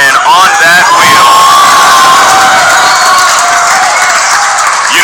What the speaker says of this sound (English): you know it's fun when we're cheering for inanimate objects